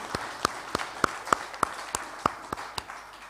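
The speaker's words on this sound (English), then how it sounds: "we all can give Sernick Group a big cheer for what they do for the community" An audience at a community farmers' day gathering gives a cheer, heard as a steady run of about ten separate, evenly spaced claps over a low murmur, fairly faint and with no voices.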